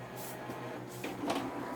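A Canon MP237 inkjet printer starts up to print, giving a few soft mechanical whirs and clicks with a slightly louder burst near the end, quiet and close, with no voices.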